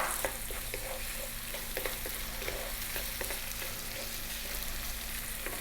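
Onion and garlic ginger paste sizzle steadily in a pan with light stirring, a continuous close frying hiss throughout.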